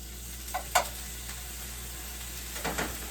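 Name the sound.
minced garlic added to a sizzling pan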